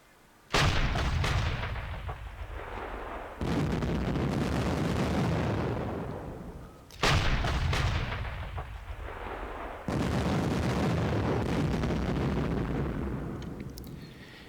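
Artillery fire in the WWII wargame JTS Panzer Campaigns, Bulge '44 Losheim Gap: four heavy, loud booms at spaced intervals, each followed by a long rolling rumble that fades before the next blast.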